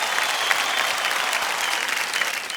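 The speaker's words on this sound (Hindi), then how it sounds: "एक बार फिर तालियों के साथ हम इनका स्वागत करते हैं" Studio audience at the KBC quiz show applauding to welcome guests, a dense, steady burst of clapping from a large crowd, close and continuous.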